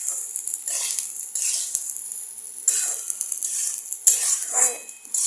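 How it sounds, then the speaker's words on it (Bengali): Garam masala being mixed into rice for pulao, with bursts of close scraping and rustling of a spoon through grains in a pot and a few metallic clinks between quieter gaps. "ভালো করে মিশিয়ে নিতে হবে গরম মশলাটা চালের সাথে।"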